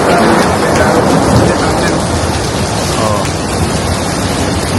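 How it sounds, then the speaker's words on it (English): Heavy downpour with rolling thunder, a dense, loud roar of rain close by, steady throughout, with a brief exclamation from a person. "it's raining. Raining like hell."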